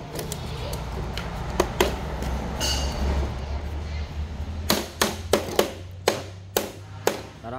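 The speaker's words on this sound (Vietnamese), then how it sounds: "Lấy cái búa đập đập trong cái nó chạy hả?" A hammer taps a jammed garden blower-vacuum machine in a series of sharp, evenly spaced metallic knocks, loud and close, over a steady low engine hum.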